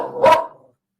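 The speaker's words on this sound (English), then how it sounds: "he's barking at like absolutely nothing down the hall" A dog gives a single sharp bark down a hall indoors, fairly loud and close, then fades quickly into silence.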